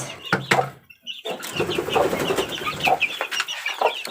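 Young gamefowl stag chicks cluck and peep close by in a quick, irregular run of short calls, fairly loud, with no talk.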